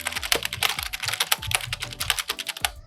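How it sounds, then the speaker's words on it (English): Mechanical keyboard keys being typed in a steady, fast clatter of sharp close clicks and thocks, heard alone with no talking. "I'm going to compare it with my mechanical keyboard sounds"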